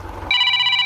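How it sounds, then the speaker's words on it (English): A telephone rings in a rural Russian village in deep winter snow, a single loud, steady electronic ring tone that starts abruptly and holds close by. "So there's Jason ringing now."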